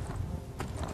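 Horse hooves clip-clopping in The Elder Scrolls V: Skyrim, a few quick muffled hoof falls over a dense, rumbling game soundscape.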